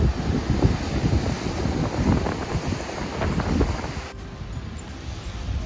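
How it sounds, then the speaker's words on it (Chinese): Strong wind buffets the microphone on the rocky Shek O coast in Hong Kong, a loud continuous rumbling roar with crashing surf beneath, steady throughout and easing slightly near the end. "有大风又大浪，真系小心啲啊！"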